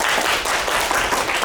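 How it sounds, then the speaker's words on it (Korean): Applause from a university lecture class, dense and continuous clapping at an even, fairly loud level from start to finish with no talking over it. "박수 한번 쳐주시고요"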